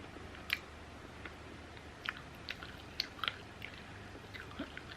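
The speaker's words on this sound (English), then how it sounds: "Trying to chew on the side." Someone chews a mild cinnamon snack up close, with irregular crunchy bites and clicks spread over a quiet background and no talking.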